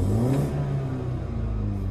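A 2018 BMW 330i with the B48 engine revs toward about 5,000 rpm in comfort mode, a close, fairly subdued steady engine drone with a rising tone.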